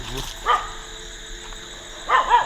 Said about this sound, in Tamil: நாய் வேறு பயங்கரமாக குலைக்குது